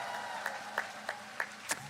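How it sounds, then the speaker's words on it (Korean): Crowd at an outdoor campaign rally in Gangseo district clapping, a brief stretch of applause with a few sharp, regularly spaced louder claps over a background murmur. "격려의 박수 부탁드립니다."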